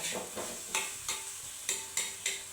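Small grains frying in a pan and stirred at a steady pace, giving a soft continuous sizzle broken by about seven regular scraping sweeps of the spoon, close and moderately quiet, with no talk.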